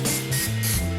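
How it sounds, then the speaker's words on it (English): Non-stick cooking spray hissing from an aerosol can onto a brownie pan, two or three short close bursts with a mechanical hum underneath. "I'm gonna go ahead and spray this pan down really well with a little bit of non-sticking spray here."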